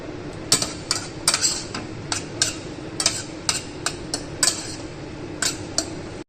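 Lamb and rice being stirred together in a pot for Omani lamb kabuli, with repeated clinks and scrapes of a spoon against the pot over a faint background sizzle, no talking.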